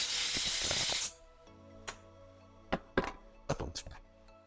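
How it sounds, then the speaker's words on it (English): Compressed air blasts debris out of the bar tensioner slot on a STIHL chainsaw, a loud broadband hiss lasting about a second, followed by scattered knocks and clicks of handling the saw. "We're just going to wipe any debris out and blow out with a little compressed air."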